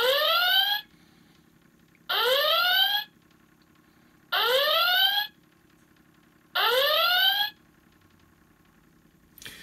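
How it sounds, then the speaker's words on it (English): Star Trek U.S.S. Enterprise NCC-1701 door chime from 2017 sounds its motion-triggered red alert: four loud rising electronic whoops, evenly spaced about two seconds apart, with a faint hum between them. "when you have the motion sensor, it triggers a red alert"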